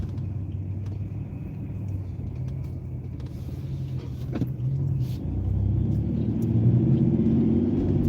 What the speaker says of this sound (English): You see how that turbo boost is kicking in?